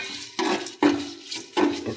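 Lentils being stirred as they fry in a pot, three brisk scraping strokes of a spoon against the metal over a soft sizzle, close and fairly loud.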